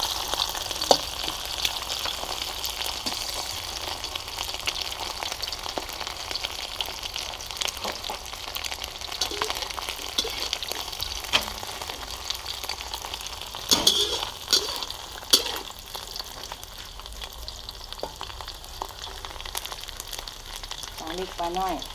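Sun-dried fish frying in hot oil, a steady close sizzle and crackle running throughout with occasional clinks of a utensil against the pan.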